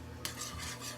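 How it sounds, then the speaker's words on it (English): Wire whisk working a pan sauce for ground beef, with a soft continuous scraping and stirring against the pan over a low background sizzle, close and steady after a brief start. "Take your whisk"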